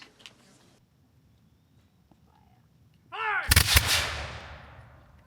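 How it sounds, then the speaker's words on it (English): A musket salute fires at a Bennington Battle Day event: one loud, close volley bursts out after about three seconds of near quiet and rolls away into a long echoing decay. "So, with no further delay, musket salute."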